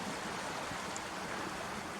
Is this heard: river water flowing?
yes